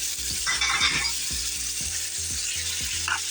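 Shrimp and pre-cooked onion sizzling in a hot pan: a close, steady frying hiss with a rapid series of rhythmic scraping clicks from the utensil stirring the seafood, no voices.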